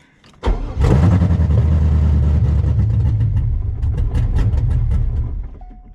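A Corvette fitted with LS3 injectors cranks and fires up, then runs loud and close at a rough, lumpy idle with slight revs before it fades near the end.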